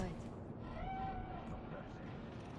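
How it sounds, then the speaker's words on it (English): A single short cat meow in the video game Cyberpunk 2077 sounds faintly over a low ambient city hum, with character talk nearby. "That cat. Fine-looking feline."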